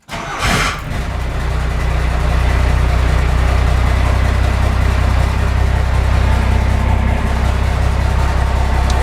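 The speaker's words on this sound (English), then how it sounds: "Now we're gonna fire her up." A truck engine cranks briefly and catches, then settles into a loud, steady, low rumbling idle that runs without pause.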